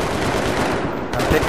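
Rapid gunfire in a multiplayer tank battle video game, dense bursts of close shots that briefly dip and then resume, with a voice faintly underneath.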